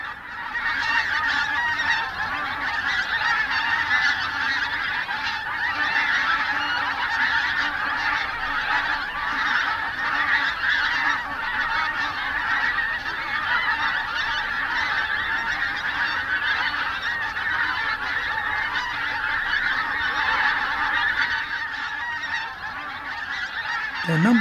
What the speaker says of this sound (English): at sunrise they leave the safety of the estuary and fly inland to forage for food